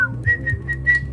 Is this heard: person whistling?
yes